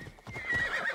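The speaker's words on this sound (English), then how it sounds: "just get on a horse and ride around for a bit" Horse hooves clip-clopping in Assassin's Creed Odyssey, a quick rhythmic gallop with a whinny-like tone over game ambience, with no talking.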